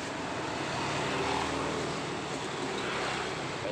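A KTM Duke 200 motorcycle with an aftermarket carbon big-volume exhaust gives a loud, steady, rushing engine drone with no talking.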